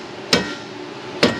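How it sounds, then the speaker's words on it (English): Two sharp hammer blows strike metal while working on a 2010 Honda Civic 1.3 CVT Hybrid, a pair of loud, ringing impacts about a second apart over a steady garage background. "Everything's a hammer, including the hammers."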